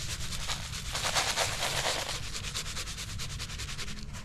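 Waxed dirt is sifted and spread over a set trap pan outdoors, making a continuous close gritty rustle and scraping with quick rhythmic pulses toward the end.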